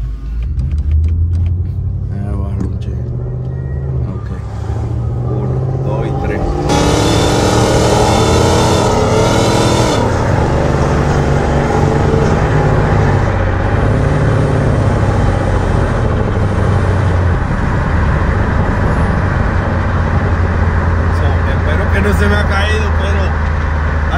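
An Infiniti M45x V8 fitted with Nissan Titan headers runs close by with a loud, continuous deep exhaust rumble, swelling into one brief rev about a third of the way through before settling back.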